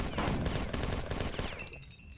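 Rapid, loud bursts of grenade blasts and weapon fire from the Marathon 2: Durandal video game, booming in quick succession before fading into a brief electronic tone.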